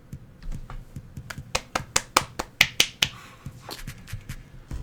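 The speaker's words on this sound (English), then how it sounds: "it's the guests clapping and cheering for me" Guests in the video game RollerCoaster Tycoon clapping and cheering, heard as a run of sharp, rapid claps that swell to a dense burst in the middle and then thin out, with no talk over them.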